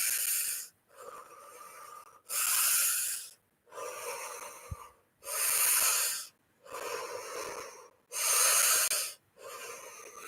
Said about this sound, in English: You're breathing very full, deep breaths, but relatively quickly.